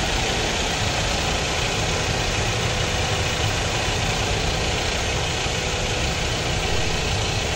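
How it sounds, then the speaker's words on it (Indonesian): A Nissan Serena engine idles steadily after spark plug seal and valve cover seal replacement, a continuous close, even hum and vibration with no speech. "itu tadi mesin sudah hidup normal"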